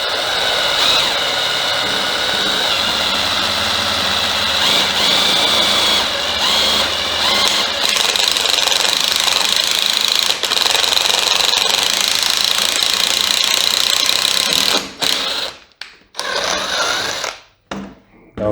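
An inexpensive drill from an online auction cuts a hole in metal with a loud, continuous high-pitched whine and grinding, steady for most of the stretch, then stopping and restarting in short bursts near the end.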